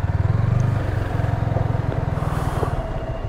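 A motorcycle is ridden and brought in to park, its close engine thumping with a rapid pulsing putter that eases slightly near the end.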